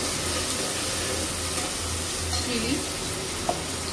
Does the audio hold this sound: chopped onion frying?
yes